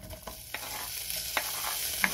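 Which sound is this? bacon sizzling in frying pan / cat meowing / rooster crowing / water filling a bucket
bacon sizzling in frying pan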